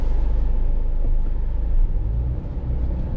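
A 2024 Subaru Impreza RS out on the road, heard from inside as a steady low engine and road rumble that holds constant, with no talking.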